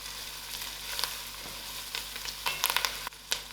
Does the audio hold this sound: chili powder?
yes